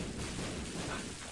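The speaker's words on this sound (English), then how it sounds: "Is a bunch of explosions." Explosions in The Binding of Isaac: Repentance burst as a dense, continuous barrage of booming blasts that overlap one another at steady loudness.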